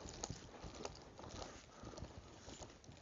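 Horse hooves walking during ground pole training, a faint, uneven clip-clop of steps over a soft rumbling background, with no talking.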